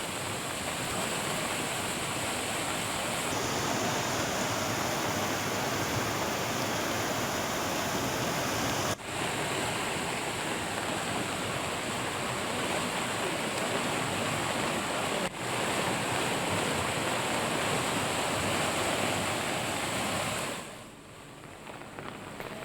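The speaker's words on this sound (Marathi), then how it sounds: "वसमत तालुक्यातील पांगरा शिंदे गावात पुराचं पाणी अनेक घरांमध्ये शिरले" Floodwater rushing after a cloudburst in Hingoli makes a dense, unbroken roar like heavy surf or pouring rain, holding steady throughout with a couple of brief cuts and easing at the very end.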